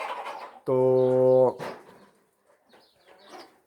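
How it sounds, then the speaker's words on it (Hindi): Backyard chickens in a coop of wire mesh under a tin roof in Saudi Arabia; one loud, sustained, tonal call rings out for under a second between stretches of nearby talking. "तो यहाँ मुर्गियाँ हैं मेरे, ये देखें"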